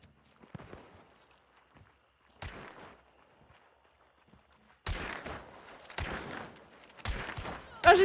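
Gunfire rings out in the first-person shooter Hunt: Showdown 1896. A few scattered shots and rustles give way to heavier bursts of loud, reverberant firing in the second half.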